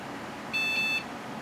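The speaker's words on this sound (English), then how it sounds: "I love that beep." A single steady electronic BIOS POST beep from a Packard Bell Platinum I computer with a Phoenix BIOS, clear and fairly loud, lasting about half a second against a faint background hum.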